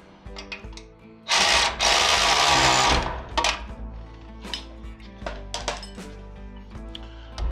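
A power tool bolts trailer light hardware on a utility trailer, with a loud sustained whirring burst of over a second, surrounded by scattered metallic clinks and knocks up close.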